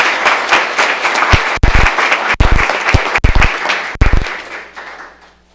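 An audience at a school board meeting breaks into applause, steady clapping that builds, carries on with a few louder claps, then fades out toward the end.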